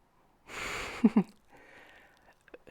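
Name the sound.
sniffing food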